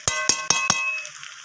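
Chicken being stirred with a homemade spice mix in a pan for a curry of country chicken and potatoes: four sharp scraping strokes in quick succession, then a soft fading sizzle, with no talking.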